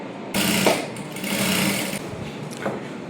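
A sewing machine stitches a seam on a child's princess-cut silk blouse, whirring loudly and close in a steady run of about a second and a half, then stopping, followed by a brief tap.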